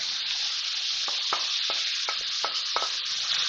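Chicken and spices sizzle steadily in a hot pan while a utensil scrapes and clicks against it in about half a dozen quick, close strokes.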